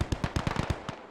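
Rapid bursts of gunfire and impacts strike a hilltop firebase in a Vietnam War video game, a fast irregular volley of sharp cracks close by, thinning out toward the end.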